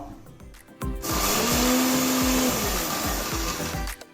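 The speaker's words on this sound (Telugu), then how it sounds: "ఈ చల్లారిపోయిన అటుకుల్ని మనం మిక్సీ గిన్నెలోకి తీసుకొని నూకలాగా మిక్సీ పట్టుకుందాం." A kitchen mixer grinder coarsely grinds cooled poha into a grainy texture, a loud, steady motor whirr with rattling grains that starts after a second and runs on to the end with no talking.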